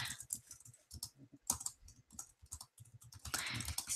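Rapid keystrokes on a computer keyboard, an irregular run of many clicks and taps at close range, with brief pauses and a denser burst near the end, no voices.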